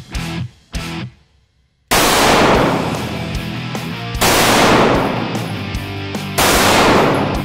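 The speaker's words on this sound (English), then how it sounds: "this is a Glock 26 9mm shooting at the Shield Pack bulletproof panel insert in a backpack" Glock 26 9mm pistol fired at a Kevlar bulletproof panel insert in a backpack, a few sharp, very loud outdoor shots: two quick pops, then three booming reports with long echoing decay.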